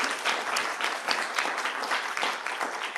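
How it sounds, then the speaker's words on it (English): Conference audience at a health assembly side event applauding panelists, a full continuous round of many hands clapping, even and sustained across the clip. "could I invite you to join me in a round of applause, please, for all our panelists and the experts"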